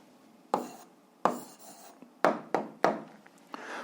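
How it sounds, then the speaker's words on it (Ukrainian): A pen writes out an answer in quick scratchy bursts, about six short strokes with pauses between, close and quiet in a still room. "записуємо відповідь, пишемо відповідь"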